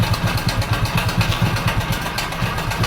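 Hero Splendor Pro motorcycle engine idling with a fault, a steady close chugging putter with rapid regular pulses and a rough, uneven rattle over it, continuous and alone without talk.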